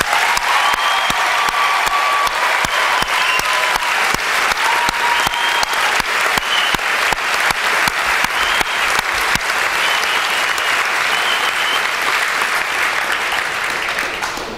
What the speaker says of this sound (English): How about joining me in a round of applause for Zulu?